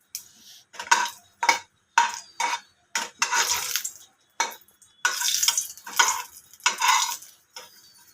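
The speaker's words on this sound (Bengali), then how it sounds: "ভাজা হয়ে যাচ্ছে শুকনো লঙ্কা দুটো।" Two dried red chillies frying in mustard oil in a pan, heard as a run of repeated scraping, stirring bursts with a sizzle underneath, fairly close and with no talking.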